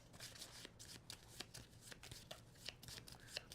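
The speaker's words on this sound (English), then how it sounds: "So that gets shuffled in." Cards from the Trismegistus board game are riffled and shuffled into the deck, a quiet, close run of rapid papery flutters and soft taps with no voices.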